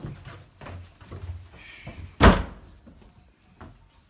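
A door bangs shut once, loud and close, as someone leaves a room, after a stretch of soft indistinct sounds.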